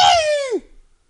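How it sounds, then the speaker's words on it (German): A single cat meow in the video game Guild Wars 2: one loud, close, tonal cry that glides downward in pitch and cuts off after about half a second, followed by silence. "Katze."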